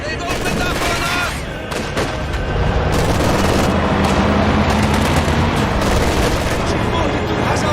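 Enemy heavy machine gun fire in a combat video game, with loud, dense, continuous bursts and booms filling the whole clip as a voice shouts over the gunfire.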